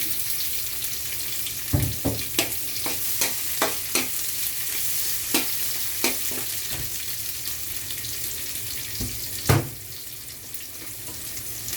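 Garlic and onion sauté in a hot pan with a steady close sizzle, punctuated by a quick run of spatula scrapes and knocks and a louder clank near the end, with no talking.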